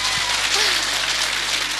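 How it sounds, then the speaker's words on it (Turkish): Audience applause at an emotional performance of the Turkish national anthem, a steady wash of clapping lasting the whole short stretch with no gaps, fairly loud and dense, with faint voices beneath it. "Lütfen bir alkış istiyorum."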